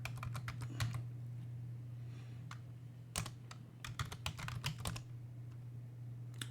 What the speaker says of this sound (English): Now, if the Terminator wants to change his own password, what is he going to do? Just type password.